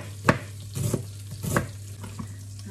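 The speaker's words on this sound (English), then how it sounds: "while that's sizzling away" Spices sizzle and crackle steadily in a hot pan, close up, with a few louder bursts of spattering and stirring, as cabbage is prepared.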